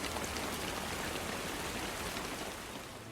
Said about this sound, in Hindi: आज तो इतनी तेज बारिश हो रही थी